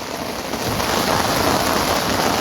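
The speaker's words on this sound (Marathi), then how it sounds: "पाऊस चालू आहे मी पण पावसातच आहे" Heavy rain falls steadily at a bus stand, a dense continuous hiss of drops on surfaces with no break, loud and close.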